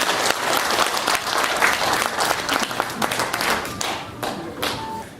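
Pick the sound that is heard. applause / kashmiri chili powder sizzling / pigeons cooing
applause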